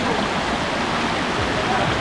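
Kaparkan Falls in Tineg, Abra, Philippines, a waterfall tumbling down rocky steps, gives off a loud, constant broadband rush of water, close and unbroken.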